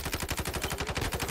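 Rapid automatic gunfire from a weapon in the mobile shooter Call of Duty Warzone Mobile, a fast, evenly spaced burst of sharp shots, fairly faint and with no talk over it.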